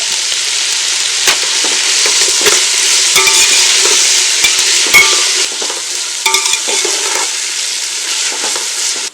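Onions sautéing in a pan for egg biryani give a loud, close sizzle, broken by repeated scraping stirs of a utensil, with no talk.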